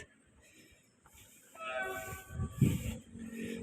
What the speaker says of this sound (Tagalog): Approaching yung train ha.